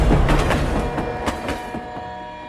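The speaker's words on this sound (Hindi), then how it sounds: "तभी ट्रेन उसके ऊपर से चली गई।" A train rolls over a railway track in an animated short, its clattering wheels rumbling loud and close in a rapid clickety-clack that fades slightly as it passes.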